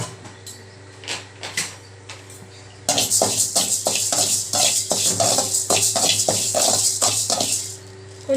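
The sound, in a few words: ration rice being dry-roasted in a pan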